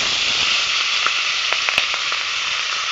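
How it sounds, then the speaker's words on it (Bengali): Two rohu fish heads fry in hot oil, giving a steady close sizzle dotted with a few sharp pops and crackles, with no talking. "এবার মাছের মাথা দুটো ভেজে নেব।"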